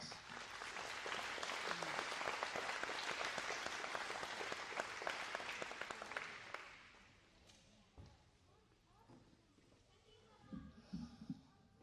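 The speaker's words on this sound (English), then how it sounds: "Let's give him a round of applause." An audience applauds at an air museum meet-the-pilots event, a dense, steady wash of clapping for about seven seconds that fades out, followed by quieter room sounds and shuffling.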